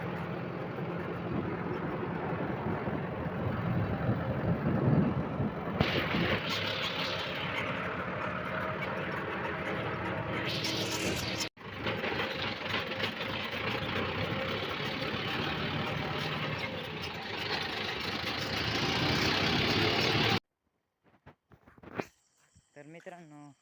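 Tractor engine idling as it is taken out of its shed on a farm before heavy ploughing, a steady, fairly loud running drone that cuts out abruptly near the end, followed by short scattered noises.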